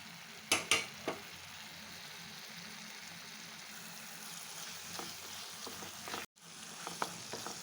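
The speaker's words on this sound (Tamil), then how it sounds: "அந்த ஸ்டேஜில் நம்ம பொரிச்சு வச்சுருக்க முந்திரி கிஸ்மிஸை நெய்யோடு ஊற்றிடலாம்." Ghee-fried cashews and raisins are poured into carrot halwa in a pan, bringing a quick cluster of clinks, then a faint, steady low sizzle with light stirring.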